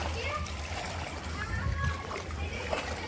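Children are splashing in knee-deep flood water on a street in Jalandhar, Punjab, with ongoing splashes and a few louder ones heard from a short distance, mixed with children's voices and someone talking nearby.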